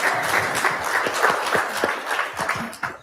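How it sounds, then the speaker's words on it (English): Audience members at a Central Michigan University TEDx event give a speaker another round of applause, a crowded burst of overlapping hand claps with some distinct individual smacks, steady and close throughout. "Can we give another round of applause?"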